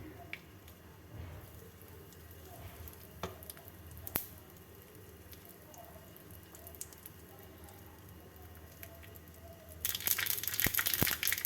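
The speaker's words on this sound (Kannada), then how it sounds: "ಈಗ ಇದಕ್ಕೆ ಒಂದು ಸ್ಪೂನ್ ಸಾಸಿವೆ ಹಾಕ್ತಾಯಿದ್ದೀನಿ ಸಾಸಿವೆ ಸ್ವಲ್ಪ ಸಿಡಿಲಿ" A spoonful of mustard seeds in hot oil, the tempering for a raw mango thokku: faint scattered crackles and pops, then a sudden loud spluttering burst near the end.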